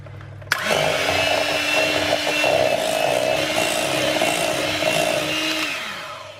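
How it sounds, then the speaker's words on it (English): Just over a pound of ricotta is whisked in a large bowl for a strawberry ricotta crustless cheesecake, making a steady, close whirring drone that starts abruptly, runs continuously for several seconds, then fades. No one speaks. "now we're going to whisk it until it's nice and smooth and creamy"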